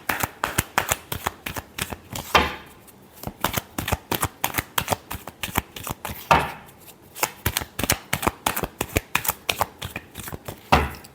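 Tarot cards are shuffled by hand during a love reading, producing a long run of quick, crisp papery flicks and riffles up close, with brief pauses between bursts and no voices.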